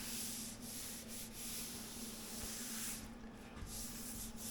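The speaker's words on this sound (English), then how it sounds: "So now I'll just sand that little bit there" Steady rough scratching of hand sanding with 320 grit sandpaper on a 1982 air-cooled VW Vanagon Westfalia door, continuous close rubbing strokes, fairly quiet, no voices.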